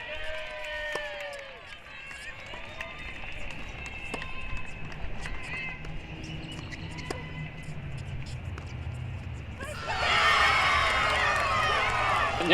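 A college tennis crowd at a Washington versus Virginia match in the NCAA Division I championships erupts after a big point in a deuce game, with loud, sustained cheering and clapping over the last few seconds following quieter court ambience.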